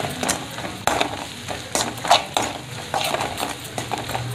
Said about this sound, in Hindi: मसालों को हम 2 मिनट तक भूनेंगे